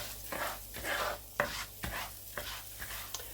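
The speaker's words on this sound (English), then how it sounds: "I'm just stirring it through to make sure it is completely coating, the butter is completely coating" Arborio rice stirred through melted butter in a risotto pan, giving repeated scraping, rubbing strokes with a few sharper knocks of the spoon, steady and close with no talk.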